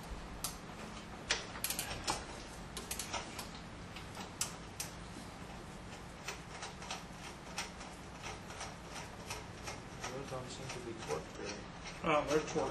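Bolts being worked loose from the front pulley of a GM 3800 L67 3.8L engine, a quiet run of ratcheting ticks and clicks under a person talking.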